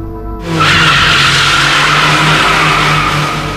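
A Toyota AE86 slides through a mountain-pass corner in a smooth drift. A loud, sustained tire squeal erupts after a brief lead-in and holds steady over a low engine drone, with no talking.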